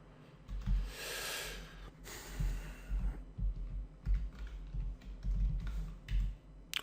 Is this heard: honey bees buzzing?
no